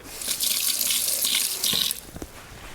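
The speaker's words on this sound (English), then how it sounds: "Let me just rinse this really quick." Running water from a kitchen tap rinses out a blender, a steady close hiss of flow that stops at the end, followed by a few clanks of handling.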